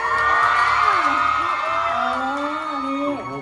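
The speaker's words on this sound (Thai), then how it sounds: "ขอเสียงปรบมือดังๆด้วยค่ะ" An audience at a L'Oreal Paris store launch event cheers and screams with high, whooping voices, a loud, close crowd of excited fans that holds throughout and fades slightly at the end.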